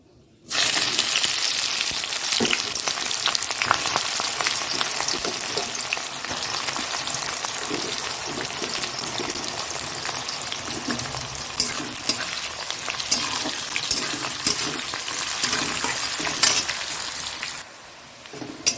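Onions hitting hot oil with cumin, dried chili and bay leaf, starting with a sudden loud burst of frying sizzle that crackles steadily for about seventeen seconds, stirred now and then, before stopping abruptly.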